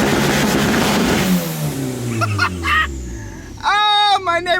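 A Honda Civic fitted with an eBay turbo is driven at full throttle, its engine revving hard and pitch climbing, with brief gear-change dips and another sharp, loud rev toward the end, heard from close by.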